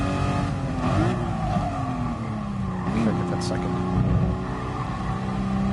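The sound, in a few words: car engine revving toward red line in video game GT Sport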